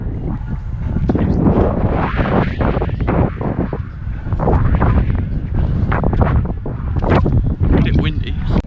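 Heavy wind buffets a microphone at a busy half marathon race in Cambridge, producing loud, continuous rumbling gusts and roaring bursts that cover the whole stretch.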